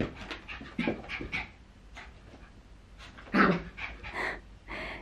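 A dog panting and whimpering at close range in a home, rapid breathy pants in bursts mixed with short high whines and yips, no one speaking.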